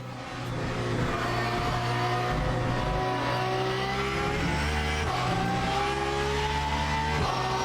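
A Porsche race car in Le Mans Ultimate drones steadily at high revs, its engine pitch holding and shifting in short steps, with faint tire noise and another car briefly passing.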